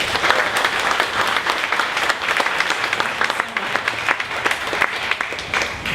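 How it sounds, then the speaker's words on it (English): A round of applause from the audience at a 1 Million Cups Dallas startup meetup, loud and sustained dense clapping with scattered sharper claps running evenly throughout. "one more round of applause for Dangle"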